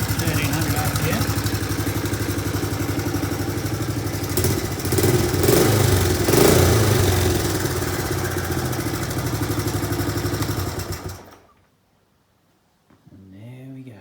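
A Honda CT110 motorcycle engine idles steadily at about 1300 RPM close by, a constant mid-pitched putter that swells briefly midway, then cuts off into near silence before a voice speaks at the end.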